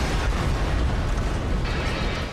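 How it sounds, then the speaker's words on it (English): A tornado strikes steel buildings in an industrial complex, bringing a loud, continuous explosive roar of dense rumbling noise that eases slightly at the very end. "and then an explosion"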